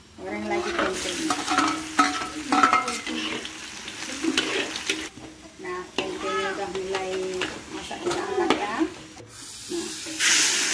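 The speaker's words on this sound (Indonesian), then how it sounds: "Goreng lagi tempenya." Tempeh fries in a pan with steady sizzling and frequent stirring and scraping against the cookware, heard up close while voices, including a child's, talk over it at times.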